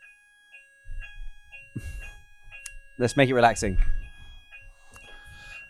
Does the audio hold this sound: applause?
no